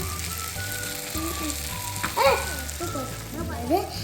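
Chicken fries with spices for butter chicken, a moderate sizzle running under a steady humming tone, with a couple of brief voice-like sounds.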